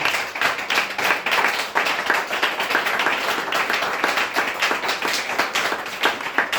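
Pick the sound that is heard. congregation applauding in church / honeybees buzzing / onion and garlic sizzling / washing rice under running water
congregation applauding in church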